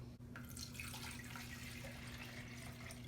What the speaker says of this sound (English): And now the outer chamber goes into the black main chamber. So go ahead and pour that in.